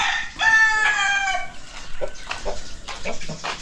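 Chickens on a Philippine poultry farm: a rooster's crow rings out clearly at the start, followed by scattered clucks and calls from the flock close by, with no talk.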